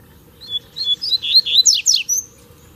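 Double-collared seedeaters singing from grass in open countryside, a close, clear series of quick high chirps and trills rising in a run of about a dozen notes.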